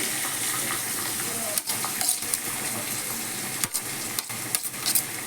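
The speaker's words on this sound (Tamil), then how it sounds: "சீரகம் நல்லா பொரிஞ்சோடனே வெங்காயத்தை போட்டு வதக்கணும்." Onions sautéing in hot oil with cumin and curry leaves for a prawn gravy make a dense, continuous sizzle, with a few sharp clicks of a spoon against the pan.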